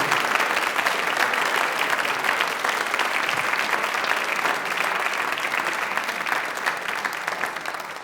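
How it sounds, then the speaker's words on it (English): Sustained audience applause for journalist John Harwood at the close of a journalism lecture, dense and steady clapping from a full hall that fades slightly toward the end. "Round of applause for John."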